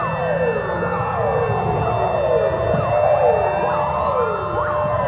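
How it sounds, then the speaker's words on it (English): A Mongolian EAS emergency alert alarm plays as a loud, continuous siren-like tone with repeated sweeping, wailing pitch glides over a steady hum, with no talking. "Next is the Mongolian EAS alarm."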